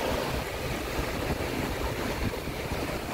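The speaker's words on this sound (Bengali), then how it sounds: "That is beach." Waves washing onto a beach in Okinawa, a steady broadband rush of surf with wind buffeting the microphone, continuous and fairly loud, with no voices.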